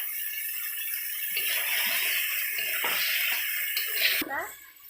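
Water pours into a cooking pan while rupchanda fish is prepared, a steady close splashing rush with some rattling, ending abruptly as the pour stops.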